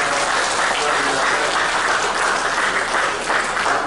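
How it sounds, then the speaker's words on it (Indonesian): Loud, dense applause from an audience fills an installation ceremony for the head of STIA Bengkulu, a continuous roar of many hands clapping close by with voices faintly mixed in. "Ini tepuk tangan ini"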